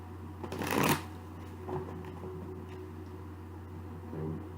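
Tarot deck being shuffled by hand, a soft burst of riffling card flaps followed by quieter sliding and tapping over a low steady room hum.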